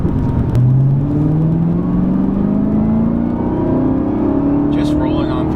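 A 2019 Camaro ZL1 1LE engine pulls hard under throttle, its loud droning roar climbing steadily in pitch from inside the car. Near the end a voice cuts in briefly over the engine.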